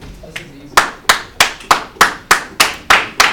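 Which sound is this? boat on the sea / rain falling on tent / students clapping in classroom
students clapping in classroom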